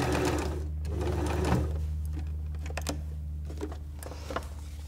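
A sewing machine runs steadily, top stitching folded bunting tape made from scrap fabric, a continuous close mechanical whir with small clicks and no talking.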